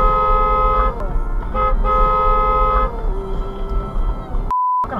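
A car horn sounds from inside a vehicle fitted with a 2020 dual-lens dash camera, with several toots in the first three seconds and a steady honk near the end, over constant road and engine noise.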